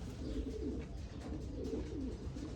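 Belgian pigeon cooing softly in a low, repeated rolling murmur, a few coos in steady succession over a faint background hum.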